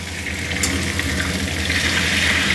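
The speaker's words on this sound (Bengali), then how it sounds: "এবার ভালো করে একটু ভাজা করে নেব" Potato and papaya pieces fry in a pan with salt as part of a mutton curry, giving a steady broad hiss of frying over a low hum, with a few faint clinks and no talk.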